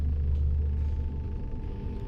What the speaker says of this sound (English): I don't know why the ventilation's doing that